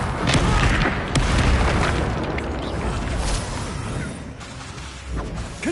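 Bombarda blast spell from the video game Hogwarts Legacy, a loud, dense booming explosion with crashing debris that rolls on continuously for several seconds before easing off near the end.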